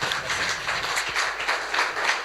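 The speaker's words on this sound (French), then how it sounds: "On peut l'applaudir bien fort." An audience at a banking technology workshop claps for a data officer speaker, a brief burst of steady, moderately loud applause from a modest crowd.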